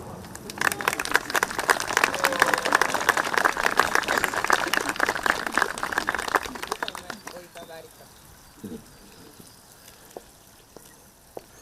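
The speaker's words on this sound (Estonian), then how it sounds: "Meie aplaus!" Outdoor audience at a town-square flag ceremony in Märjamaa on Estonian Flag Day gives a lively round of clapping that runs several seconds before dying away into scattered claps, with people talking faintly.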